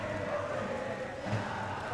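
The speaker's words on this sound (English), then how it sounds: "the passionate supporters in the crowd who cheered and yelled and beat their drum for every point that Indonesia earned" A crowd of supporters at an Asian Games badminton final cheers and yells in a sustained, fairly distant roar, with no distinct individual claps or drumbeats standing out.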